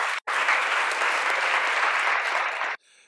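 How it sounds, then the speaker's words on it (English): An audience at a climate action summit breaks into sustained, close, energetic applause, briefly cut near the start, that runs for almost three seconds and then stops abruptly. "round of applause for our federal delegation"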